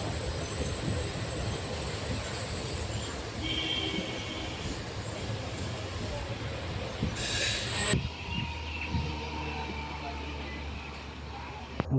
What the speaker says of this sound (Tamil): இங்கே வந்து பார்த்தா கிராசிங்காக எப்பயுமே நிப்பாடி போடுவாங்க